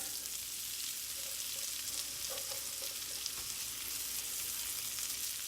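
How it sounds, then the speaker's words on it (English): Onions frying in a pan of butter and leftover kielbasa grease: a steady, close hiss of sizzling fat with a few faint clicks of stirring, continuous and without speech. "I'm going to go ahead and add the onions."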